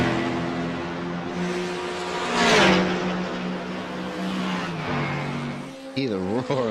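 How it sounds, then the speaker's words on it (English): GT4 race cars in a racing video game roar past, engine notes rising and falling as cars accelerate and pass, loud and close, with a commentator talking over them. "Hear the roar of the roar of the engines on some of these cameras."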